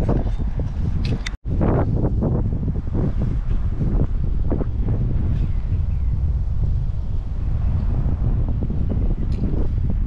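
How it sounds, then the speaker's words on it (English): Strong wind buffets the microphone continuously on a mobile home roof-over job site, a loud, rough roar with gusting surges and no talk. "About as hard as I expect the wind to blow."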